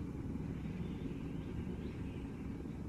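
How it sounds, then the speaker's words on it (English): A propeller aircraft in the Arma 3 military game passes overhead as a steady, low droning rumble that holds even and continuous throughout, moderately loud and with no voices over it. "Hey, an aircraft? Is it one of those prop plane?"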